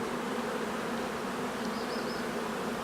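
Honey bees swarm around a Ukrainian beekeeper's hives during a honey harvest, giving a steady, dense buzz that holds close and even from start to finish with no pauses.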